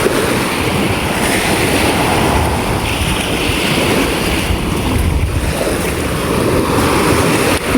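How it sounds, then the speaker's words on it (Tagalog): Strong ocean waves roll and break along a shore as a fishing boat comes in from sea, a steady loud wash of surf mixed with wind buffeting the microphone, continuous throughout with no talk. "Lakas pa rin ng alon."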